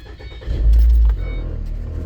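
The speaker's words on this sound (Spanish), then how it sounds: "voy a arrancar el auto." A 2010 Ford Transit Connect engine cranks and catches in a short loud burst, then settles into a steady, lower idle close by.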